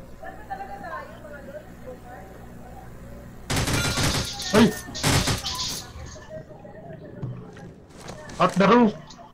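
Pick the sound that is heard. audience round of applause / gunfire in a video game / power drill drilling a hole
gunfire in a video game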